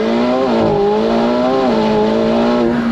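A McLaren 750S Spider supercar engine roars loudly and continuously in a launch-mode start, its pitch climbing through gear changes with a stepped, rising whine as it accelerates hard.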